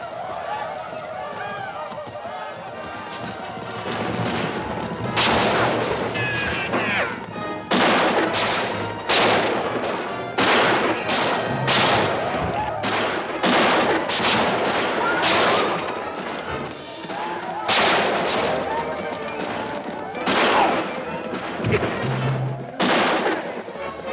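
Battle scene from a 1950 cavalry and Indian conflict western film: dense, continuous rifle gunfire and booming artillery blasts, loud and sustained, with cracking shots layered over a constant roar of battle noise.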